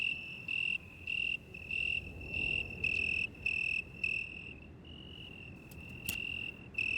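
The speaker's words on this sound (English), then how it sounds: "The chirping sounds of crickets fills the night air." Crickets in vineyards along the Rhine chirp at night in regular pulsing bursts, a loud, close insect trill repeating about twice a second over quiet darkness, with a faint click near the end.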